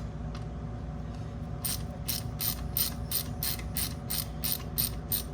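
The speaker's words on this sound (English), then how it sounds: "Take the 4mm ratchet." A 4mm ratchet clicks in a quick, steady run of sharp, even ticks while bolts come off during a Turbosmart blow-off valve install, close and clear over a low background hum.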